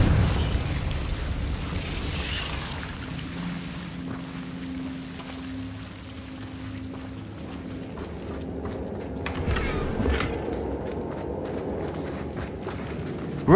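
A Confringo blasting spell goes off in Hogwarts Legacy, a single muffled burst late in the clip over a low droning game ambience.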